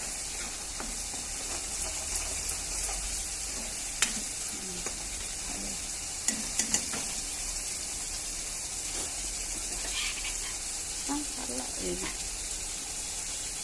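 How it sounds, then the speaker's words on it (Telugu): Onion and green chilli paste frying in a pan for a keema dish, a soft continuous sizzle with occasional clinks and scrapes of stirring, close by, with a voice talking over it. "ముందు ఉల్లిపాయ పచ్చిమిరకాయలు అన్నీ పేస్ట్ చేసుకొని వేపుకోవాలండి"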